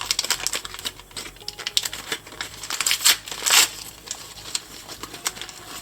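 Plastic bag holding toy capsule pieces from an MGA Miniverse Diner Series 3 capsule being opened, with close, irregular crinkling and rustling bursts, loudest in the middle.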